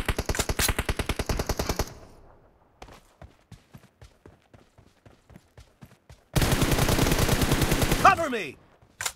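M416 rifle fire in a video game: a rapid automatic burst opens, sparser single shots and clicks follow, then another long, loud sustained burst near the end, close and dominant with no talk.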